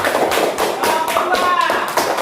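A group of people claps in a classroom setting, a steady burst of many overlapping hand claps at close range, with voices audible underneath.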